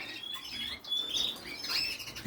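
Chicks chirping, thin high peeps coming in quick short bursts, faint and close, with no talk.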